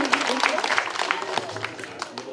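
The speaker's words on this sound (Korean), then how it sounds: "이 두 분을 위해서 박수 부탁드립니다." Audience applause at a Korean women's vocal ensemble performance, a burst of scattered claps from a crowd, with a voice talking over it.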